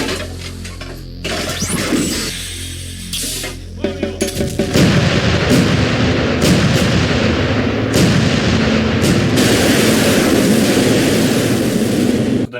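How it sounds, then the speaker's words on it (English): Naval gun batteries fire at a Finnish battlefield reenactment, unleashing loud, heavy booms that roll into a sustained, dense barrage of concussive blasts. "The naval gun batteries are now firing on the enemy ships."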